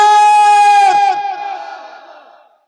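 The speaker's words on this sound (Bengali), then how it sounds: "একটু জোরে বলেন নারায়ে তাকবীর" A large crowd at a religious gathering chants the slogan Nara-e-Takbir. The loud, sustained unison shout is held on one pitch, then breaks off and trails away into echo over about two seconds.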